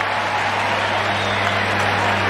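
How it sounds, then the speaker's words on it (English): A baseball stadium crowd at a Rockies versus Giants game, a steady roaring wash of cheering and applause that holds at an even, loud level with no breaks. "the crowd's more excited right now than they've been the whole night"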